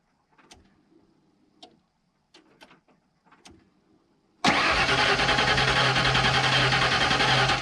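A 1992 Ford F150 pickup truck engine gives a few faint clicks and knocks, then fires up abruptly and keeps running loud and steady close by, with no voices.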